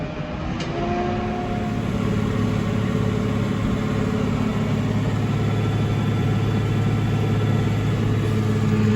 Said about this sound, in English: See if I can work this tractor.